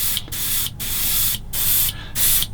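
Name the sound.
airbrush spraying paint on model kit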